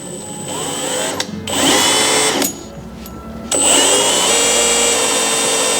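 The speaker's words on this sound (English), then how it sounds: "don't want to drill it too fast." A power drill whines loudly up close, running in bursts with brief pauses as the pitch shifts under load while boring into a Mazda RX-8 rotary engine housing for bridgeport porting.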